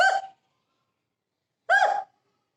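A voice imitates an elephant's hiccup: two short, breathy gasping hiccup sounds, well apart, close and clear with silence between them, as in a children's story.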